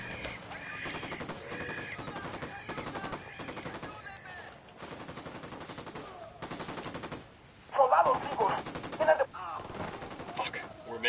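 Gunfire from Ghost Recon Wildlands comes in repeated automatic bursts with short gaps between them, fairly close and punchy, with a louder cluster of shots toward the end.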